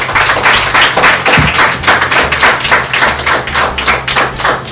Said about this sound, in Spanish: Fuertes aplausos para los escritores nacionales